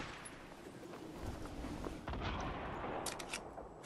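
Gunfire in a first-person shooter match, a few sharp distinct shots crackling against a steady noisy game background, with a brief cluster of bright reports near the end.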